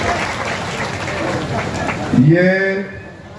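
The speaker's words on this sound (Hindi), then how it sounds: "तो एक बार ताली बजाए दो" A large crowd at an outdoor political rally claps in a sustained burst of applause, which fades as a voice rings out over a loudspeaker near the end.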